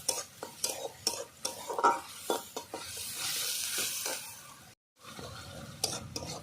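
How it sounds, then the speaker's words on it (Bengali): Onion paste frying in a pan for eggplant in yogurt, with steady sizzling broken by repeated stirring scrapes and clinks of a spoon, close and moderately loud, then a brief silence before the frying resumes. "পেঁয়াজ বাটাটা আমি 1 মিনিট ধরে ভালো করে কষিয়ে নেব"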